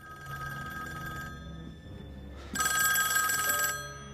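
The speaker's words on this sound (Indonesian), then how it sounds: "tiba-tiba, sebuah telepon berdering" An old-style telephone bell rings in two loud bursts separated by a short pause, each a rapid metallic trill heard alone in a quiet room.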